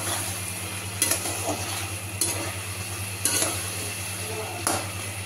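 Potatoes and green chillies sizzle steadily in cooked-down masala for a catla fish curry, with a spoon scraping and stirring the pan every second or so, close by and without speech.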